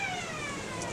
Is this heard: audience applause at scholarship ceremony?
no